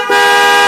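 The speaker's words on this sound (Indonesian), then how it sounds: "Klaksonnya sudah di custom menggunakan klakson yang lebih kencang," An upgraded Denso horn on a Honda PCX 160 scooter gives one short, loud, brassy honk close by, with no talking.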